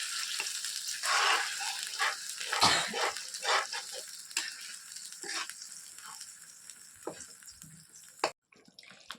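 Onion and spice paste fries and sizzles in a pan for an Assamese-style chicken leg gravy, with irregular scraping bursts from stirring and a soft sizzle between strokes, ending in a brief clatter.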